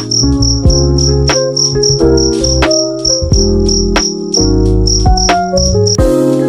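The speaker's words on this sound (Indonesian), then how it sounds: "Dering jangkrik di halaman" A steady, high cricket chirp pulses repeatedly over loud, sustained musical tones, continuing throughout until it cuts out near the end.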